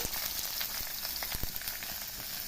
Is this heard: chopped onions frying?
yes